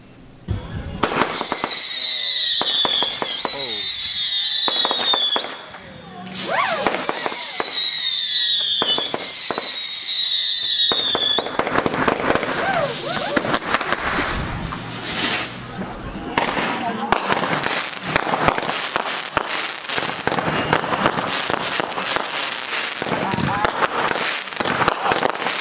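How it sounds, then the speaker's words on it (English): Canada Day fireworks display in a residential neighbourhood: whistling rockets screech upward, then a dense barrage of booms, pops and crackling bursts follows nearly continuously, loud and close, with faint voices in between. "We had quite a fireworks celebration in here where we live."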